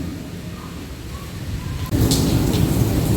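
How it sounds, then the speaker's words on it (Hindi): Heavy rain and hail pelt a shed roof in a windy storm, a dense steady roar that turns abruptly louder and harsher partway through, with sharp scattered impacts on top. "अभी ओले पड़ने शुरू हो गए, ऐसी तेज़ आवाज़ है"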